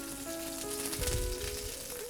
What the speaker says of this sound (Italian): Adesso andiamo a tostare le ossa del nostro pesce precedentemente sfilettato